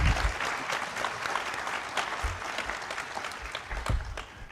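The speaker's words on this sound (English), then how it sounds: "So give them a round of applause" An audience at PAX, the gaming expo, applauds in a dense, steady wash of clapping that fills the hall evenly, with a few louder claps standing out.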